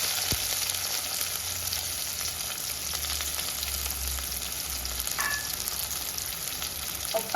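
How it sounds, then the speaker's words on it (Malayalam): Crushed shallots sizzle steadily in hot coconut oil with popped mustard seeds, a dense, even frying hiss with faint stirring, close and continuous without talk. "നമുക്കിതിലേക്ക് ചതച്ച് വെച്ചിട്ട് ചോമന്തി ചേർത്ത് കൊടുക്കാം."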